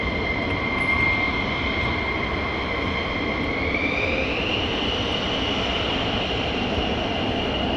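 An F-15E fighter jet of the 492nd Fighter Squadron at RAF Lakenheath gives a steady, distant roar with a whining tone that shifts in pitch, continuous and unbroken.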